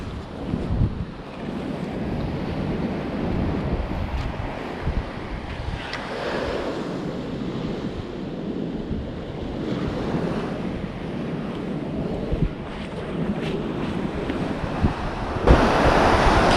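Ocean surf breaking on a Northern California beach during crab snaring, a steady roar of waves washing in with heavy wind buffeting the microphone, continuous and without speech.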